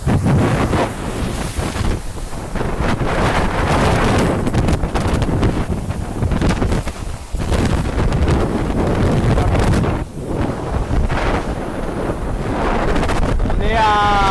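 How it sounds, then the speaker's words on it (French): Strong storm wind roars across a sailboat racing offshore during storm Ciaran in the Transat Jacques Vabre, a loud, steady broadband rush with buffeting on the microphone that never lets up. "Il y a 10 nœuds de vent."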